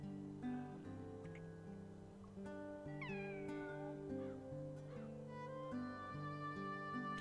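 A cat meows a few times inside the video game Kingdom Hearts, the short mews sitting over a steady layer of game music.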